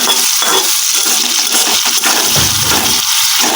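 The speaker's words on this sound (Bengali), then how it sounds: "নুন দিয়ে ভালো করে নুনের সঙ্গে পেঁয়াজ টমেটোটাকে মিশিয়ে নিচ্ছি।" Onion and tomato with salt frying in a pan, stirred: a loud, continuous close sizzle broken by soft scraping and stirring strokes.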